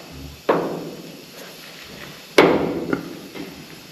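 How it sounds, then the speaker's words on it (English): Side cutters bending off the spot-welded metal lip joining a car roof to its rail, producing two sharp, close metallic cracks with a few lighter clicks and scrapes between them. "I'll get some side cutters. I'm going to peel up this bottom lip."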